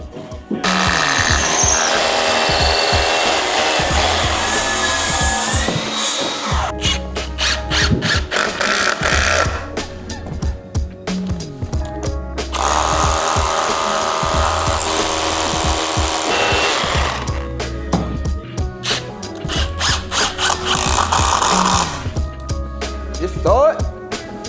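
A power saw cuts timber for a non-load-bearing wall on a UK home extension, running in several bursts with clattering, ratcheting and handling noises in between, close and loud, while people talk intermittently.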